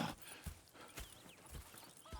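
Horses at a camp in Red Dead Redemption 2, hooves clip-clopping in an uneven walking rhythm close by, with a few soft snorts and a short whinny mixed in over quiet ambient noise.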